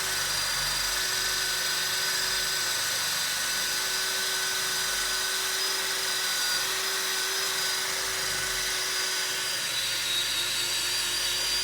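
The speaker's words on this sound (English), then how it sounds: "So it's just drilling through it at the moment just to clean it up." A drill bores through a corroded, stuck wheel sensor in the rear hub of a 2013 Vauxhall Insignia, a loud continuous high-pitched whine held steadily throughout.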